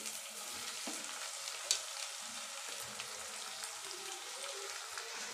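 Onions fry with cumin in a pan, giving a faint, steady sizzle with soft crackles and one brief stir.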